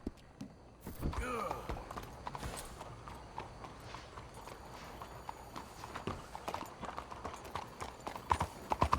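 A horse in the Red Dead Redemption 2 video game walks with steady clip-clop hoofbeats, joined by a short snort or whinny near the start, all fairly quiet under faint game ambience.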